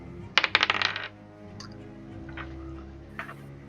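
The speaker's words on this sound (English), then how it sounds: "I'm just gonna make a dice roll right here to see how heavy and thuddy the thud was." Dice clatter and bounce across a tabletop in a quick burst of sharp, rattling clicks that settle within about a second, followed by a few faint taps against a low background hum.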